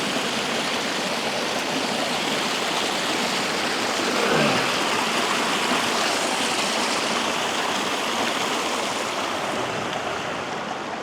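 River water rushing over rocks at rock pools, a steady, loud, broadband roar that continues unbroken throughout.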